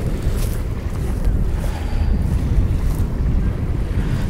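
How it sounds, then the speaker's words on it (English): Waves slap and wash against the rocky shore of Toronto's Centre Island in a steady, close churn, with wind buffeting the microphone. "you can see the waves slapping on the shore, making pleasant noise"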